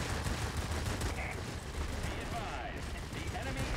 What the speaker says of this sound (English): You have two 20s that overheat very rapidly, and then a couple of an accompanying machine guns.